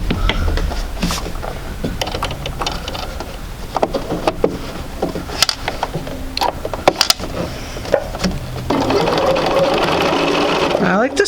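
A sewing machine runs up close, stitching a quarter-inch seam with a quick mechanical whir and rattle, pausing and restarting while a person talks over it.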